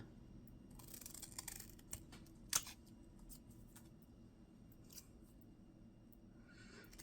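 Scissors snip through paper in a quiet room, a few faint crisp cuts and rustles scattered over several seconds, with one sharper click near the middle.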